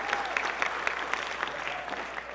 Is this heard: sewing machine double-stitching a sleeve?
no